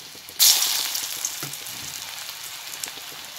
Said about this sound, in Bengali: বাক্স কচুর বড়ালা গোল গোল করে সুন্দর করিয়া ভাজি নেবেন